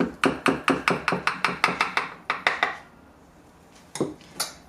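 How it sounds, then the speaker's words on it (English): A knife chops a chilled Mauritian polenta cake into slices, knocking sharply on the board in a quick, even run of about a dozen close, loud taps, then a brief pause and a few scattered knocks. "all we're going to now do is just cut up into slices"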